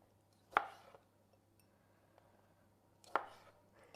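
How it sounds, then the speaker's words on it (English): Knife slicing cherry tomatoes in half on a board, two sharp cuts a few seconds apart, close and clear against quiet. "So we want to just cut the cherry tomatoes in half."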